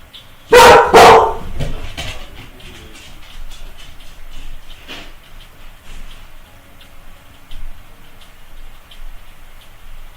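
A dog indoors barks at someone in the house, two quick loud barks near the start, followed by quieter household ambience with faint ticking and small clicks.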